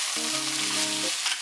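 Fish cake, onion and other vegetables being stir-fried in an oiled pan, a brief steady sizzle with a short tonal clink partway through, no voices.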